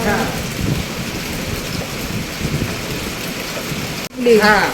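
Steady broadband rain noise hisses throughout, loud and continuous, falling between two hills near Girawali, Bhimashankar, then cuts briefly near the end before a louder burst with a voice.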